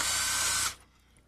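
A power drill driving a fine thread screw into plastic during a window installation: a steady, loud whirring burst lasting under a second, then stopping abruptly into quiet, with no talking over it.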